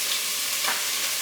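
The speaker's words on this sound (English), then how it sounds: "first thing to add are those chopped onions" Chopped onions frying for a fresh tomato marinara sauce, a dense bright sizzle close up and continuous, with a faint stir partway through.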